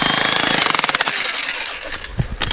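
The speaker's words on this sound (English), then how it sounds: "He's drilling away at the road at the moment" A jackhammer pounds into a road in Croatia in a rapid, loud stutter close by, then stops, leaving scattered clanks and rumbles behind.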